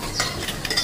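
A spoon stirs curry in a pot with a few soft scraping strokes and faint metallic clinks over a low background hiss, all within a brief moment, close and fairly quiet.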